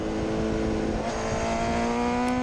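Race car engine at PittRace circuit droning loudly and close, steady tonal whine with a brief dip and pickup near the middle as the throttle comes off and back on, continuous without pause.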